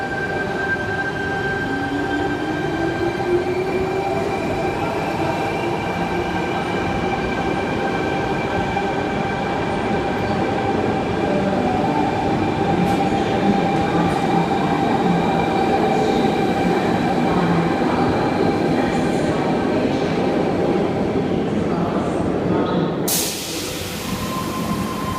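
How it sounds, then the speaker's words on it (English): Sydney Trains Hornsby sets T98 and 69 departing Bondi Junction platform 2, a loud sustained electric motor hum and rumble with rising whine tones and wheel noise, ending in a sudden burst of hiss. "T98 and 69 now departing platform 2 for a Cronulla service."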